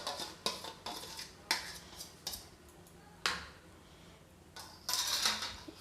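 Mango shrikhand being spooned into a bowl, with a series of soft scrapes and clinks of a utensil against the dish, some short and some longer, close and fairly quiet, with no speech.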